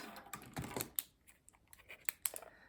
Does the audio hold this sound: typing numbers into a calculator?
yes